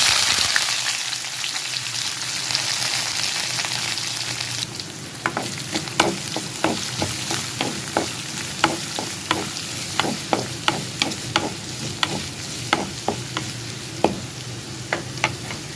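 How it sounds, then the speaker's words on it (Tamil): Onions frying in a pan for a Tamil snake gourd stir-fry (pudalangai poriyal), a steady sizzle broken by a run of sharp, regular stirring clicks as the spatula scrapes the pan in the second half. "இப்போ நம்ம வெங்காயம் கருப்பிலே சேர்த்துக்கலாம்"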